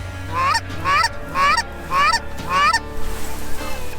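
Canada geese honking over Oklahoma wetlands during a waterfowl hunt, a flock calling in five clear, evenly spaced bursts, close and loud over a low steady background rumble.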